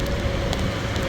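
Rain hisses steadily on a street where autos stop, a dense constant wash of noise with faint crackle throughout.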